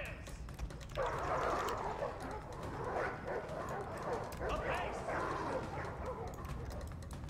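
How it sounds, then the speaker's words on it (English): War dogs in the Total War: Arena battle game, repeated barks and yips scattered over a busy combat din, while someone talks over the action. "War dog's pretty good against phalanx."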